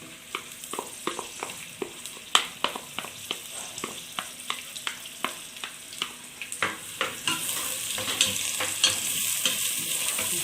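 Onion drops into hot oil in a pan and sizzles while a utensil stirs it, giving regular clicking scrapes over a steady frying hiss that grows louder and fuller toward the end.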